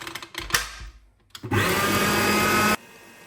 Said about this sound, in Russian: Сейчас я еще крем немножко взобью